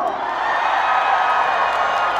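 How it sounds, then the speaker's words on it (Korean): Crowd noise from an audience at an outdoor autumn moonlight open-air concert, a dense steady wash of cheering and applause held at even loudness throughout, with no individual voices standing out. "박수 한번 주세요!"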